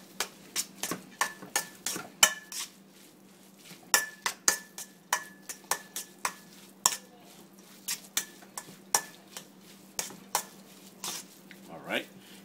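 Crab salad for sushi rolls being mixed with mayonnaise in a bowl, heard as a series of quiet, irregular clinks and scrapes of a utensil against the bowl over a low background hum.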